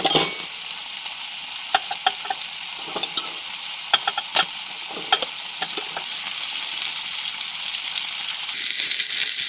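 Steaks seasoned with onion salt searing one at a time in a pan on a tent stove during winter hot-tent camping, a continuous loud sizzle with scattered sharp spits and pops, swelling louder at the end.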